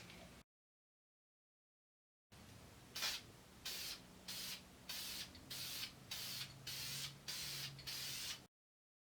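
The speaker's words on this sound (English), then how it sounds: "I'm going to put some primer on it, let it sit for the recommended time" Aerosol primer is sprayed onto the limbs of an Elite bow in a run of about nine short, even bursts separated by brief pauses, close and fairly loud, with no talking.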